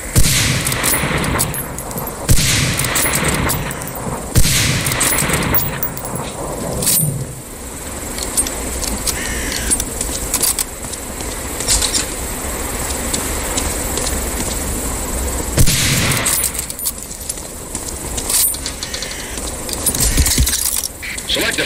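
Bolt-action Springfield 03 sniper rifle shots in the Medal of Honor Allied Assault game, a few loud sharp cracks spaced seconds apart over busy game ambience and background noise.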